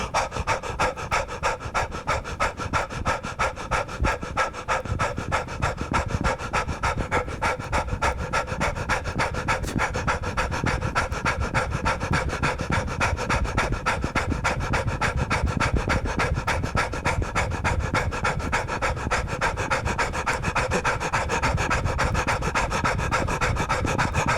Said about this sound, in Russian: Первое, что я начинаю делать, это быстро дышать.